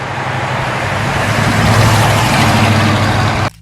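A 1970 Buick GSX Stage 1 muscle car engine rumbles steadily at a loud, even drone for a few seconds, with a deep low-end throb under broad roar, then cuts off abruptly.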